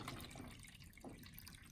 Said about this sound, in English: And we're gonna pour the water in.